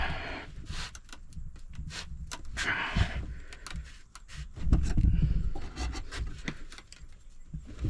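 A custom knife blade is worked into a crack in wood, giving close, gritty rubbing and scraping with creaks and short bursts of friction, irregular and fairly quiet.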